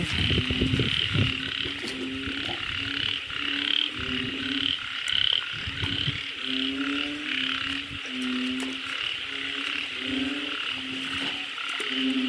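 Many frogs at a frog farm croak in overlapping, rhythmic chorus during heavy rain at 3 a.m., steady and dense, with a bright hiss running underneath.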